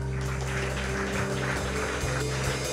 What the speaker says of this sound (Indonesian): Boleh enggak kita latih saudaraku, tangan kita bertepuk tangan?